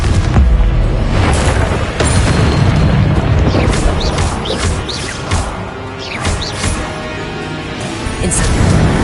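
A Confringo fire spell explodes in Hogwarts Legacy amid continuous loud booms and crashing blasts, with several sharp bursts layered over a heavy rumbling battle din throughout.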